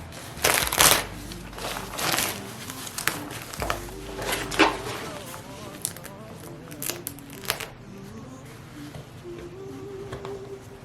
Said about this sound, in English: And then I'm going to rip away the stabilizer.